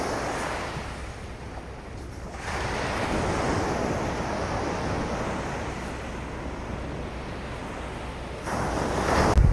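Strong wind buffets the microphone over steady crashing surf at a beach lined with rock barriers, a continuous loud roar with gusts swelling at the start and end.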